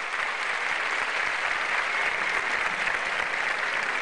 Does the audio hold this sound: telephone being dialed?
no